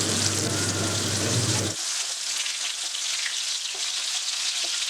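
Red snapper frying in oil on a tawa gives a loud, steady sizzle that cuts off abruptly partway through, leaving a quieter background with faint clinks and kitchen noise.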